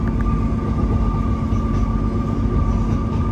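A passenger train rumbles steadily along the tracks at close range, slowing near a junction, a constant loud roar with a faint whine and no pauses.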